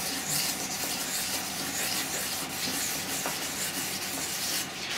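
Fine 1200-grit sandpaper rubbing on a turned pen blank spinning on a lathe gives a steady, close, soft hissing scrape that keeps up without a break and with no talking.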